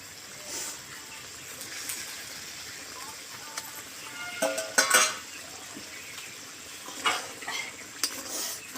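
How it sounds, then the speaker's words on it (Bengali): Pieces of katla fish go into a boiling curry gravy in a pan, with a bubbling sizzle, stirring scrapes and a few utensil clinks, moderately quiet and without clear speech. "ঝোলটা ফুটে গেছে এবার আমি মাছগুলো দিয়ে দেবো"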